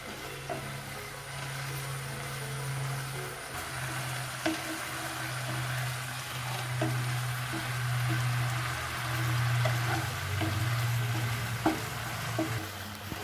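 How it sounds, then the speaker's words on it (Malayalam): Thick carrot halwa bubbling and sizzling in a pan while being stirred, a constant close crackle with soft scraping strokes and scattered pops, no talking. "ഇത് നമ്മൾ ടൈറ്റ് ആകുന്നത് വരെ ഇളക്കിക്കൊണ്ടേ ഇരിക്കണം. നല്ലതുപോലെ ബബിൾസ് വരുന്നുണ്ട്."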